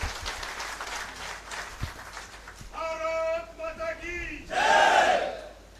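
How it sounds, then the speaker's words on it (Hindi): A large crowd at an Aam Aadmi Party rally in Kaithal, Haryana claps and cheers, with loud chanted shouts rising over the clapping and a final burst of cheering near the end. "जोरदार तालियां बजाकर ये आदरणीय संदीप पाठक जी को बता दीजिए कि आपने हमें कैंडिडेट एक नंबर दिया है।"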